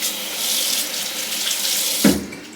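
Tap water running steadily into a sink, a continuous bright hiss close by, broken near the end by a brief splash as something is dipped in.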